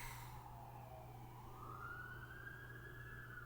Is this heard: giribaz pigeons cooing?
no